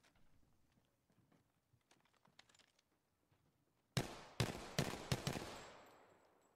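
Longbow rifle fire in a video game: after soft clicking and faint movement, four sharp shots ring out in quick irregular succession, each with a bright crack and a short decaying tail.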